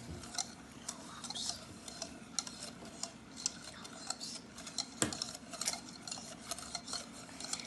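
Brownie batter being whisked in a bowl, with quiet, steady clicking and scraping strokes that repeat throughout. No voices.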